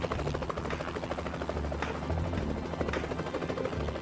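A helicopter flies over a Hawaiian forest, its rotor thrumming in a steady, unbroken pulse at moderate distance for a few seconds, with no talk.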